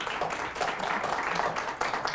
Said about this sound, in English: let's give a round of applause for our judges